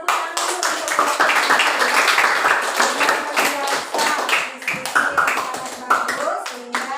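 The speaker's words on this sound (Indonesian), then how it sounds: "tepuk tangan dulu untuk kelompok" Classmates clap for a group that has just finished its presentation in a classroom, a busy, uneven patter of hands close by, with voices chattering over it.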